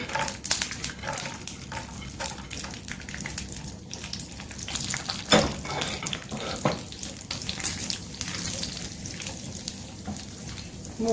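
Cashews fry in ghee for a biryani, giving a steady close sizzle with crackling pops throughout and a few louder spits.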